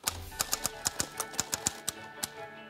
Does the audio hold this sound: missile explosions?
no